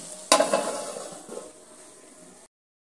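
An eggplant dish with coriander leaves being stirred in a pan before it is covered, with a sharp clatter at the start, then a soft fading sizzle that ends abruptly.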